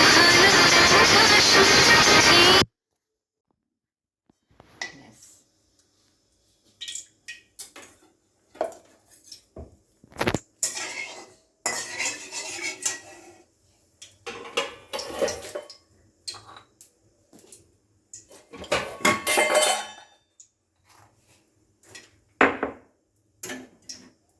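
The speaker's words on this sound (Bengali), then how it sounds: "একটু এলাচ থেতো করে নিলাম" Cardamom crushed for carrot halwa: after a brief loud rush of noise, a quiet space fills with scattered sharp clinks, taps and knocks in irregular bursts, close and without talk.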